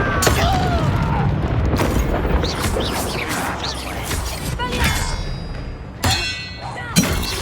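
A Confringo blasting spell goes off during a Hogwarts Legacy fight, loud clanging impacts and booms over a busy game soundscape, with sharp hits standing out near the end and a voice calling out.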